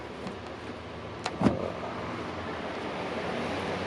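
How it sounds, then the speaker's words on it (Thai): Electric power windows of a Hino S700 truck give a brief, soft motor whir and a muffled thunk inside the cab, over a steady low background hum. "กระจกไฟฟ้าครับ"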